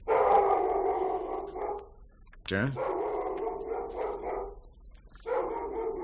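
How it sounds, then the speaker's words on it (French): A dog barking in repeated bursts near a radio-drama scene, loud yaps in clusters with short pauses between them, a man's brief spoken word in between. "Il a l'habitude d'aboyer pour rien, votre chien?"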